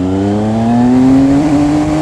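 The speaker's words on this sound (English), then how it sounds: "You just wind on the throttle and give it a little go." A motorcycle engine revs loud and close as the throttle is wound on along an empty 30 mph road, its steady droning tone climbing in pitch as the bike accelerates, with no talking.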